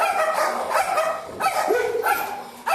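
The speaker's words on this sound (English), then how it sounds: "the dogs should be expected to bark when there's a disturbance" Several dogs in cages at an animal shelter bark and yip in repeated bursts, fairly loud and close, with echoing overlapping calls.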